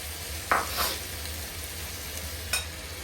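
Tomato stir-fried with cinnamon, dried red chili and coriander leaves in an oily pan gives off a soft, steady sizzle, broken by two sharp spatula scrapes against the pan.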